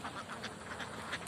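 Ducks out in a rice paddy quack in soft, faint bursts, a few scattered calls over a low outdoor background in a brief moment.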